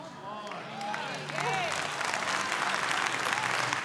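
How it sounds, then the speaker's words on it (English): A church congregation claps together in a sustained, dense burst that grows slightly louder, with a few voices calling out over it. "you're giving a golf cart clap"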